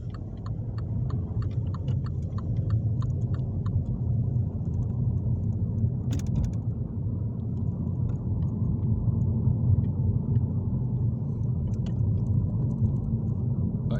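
Steady low engine rumble and road noise from a Volcanic Orange Mini being driven on side roads, heard from inside the car, smooth and continuous with faint ticking clicks over it.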